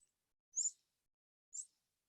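Two short, very high-pitched junco contact calls, thin sit-like notes about a second apart, faint and isolated with silence between them.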